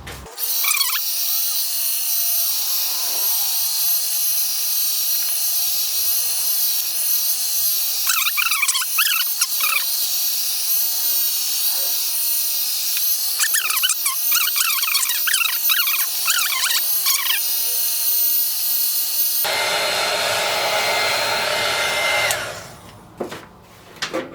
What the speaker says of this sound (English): so I'm gonna give this a quick blow with my dryer.